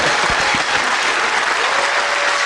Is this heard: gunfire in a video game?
no